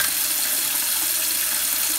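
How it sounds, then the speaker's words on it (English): A bathroom faucet runs with both hot and cold water turned on, giving a steady, loud, even rush of flowing water into a sink with no pauses. "What we'll do now is we'll turn the water on, both hot and cold. Allow the water to flow through for a bit."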